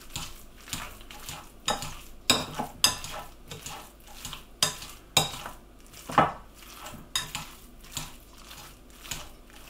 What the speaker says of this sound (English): Give that a further mash.